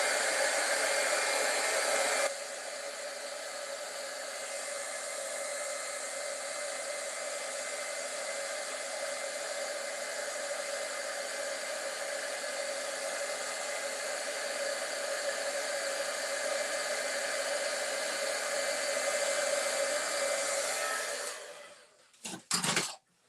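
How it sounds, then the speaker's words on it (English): A heat tool blows steadily to dry a watercolor wash, a loud continuous hiss-like whir running for about twenty seconds before cutting off abruptly, followed by a few faint clunks. "Now I'm going to use our heat tool to dry it."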